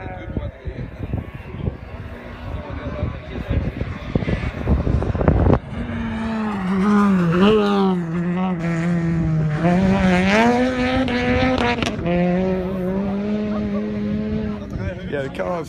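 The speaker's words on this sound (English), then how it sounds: "the cars go round to the left there and they go up the hill slightly round to the right" Rally cars race through a stage on Rally Monteburg. Engines rev hard and rise and fall as the cars sweep left and climb the hill, loud and close, with a voice talking over them.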